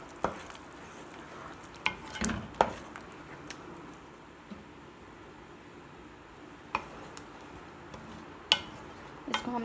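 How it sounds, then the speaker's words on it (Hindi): Chicken handi with yogurt being stirred and fried in a pot: irregular scrapes and knocks of a spoon against the metal over a soft, steady sizzle, with no talking. "इसको हमने अच्छी तरह से अब भून लेना है, इसका पानी ख़त्म हो जाए"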